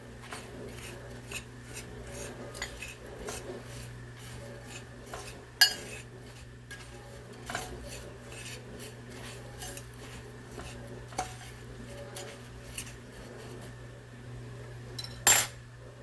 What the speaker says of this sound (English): And I stir it all up.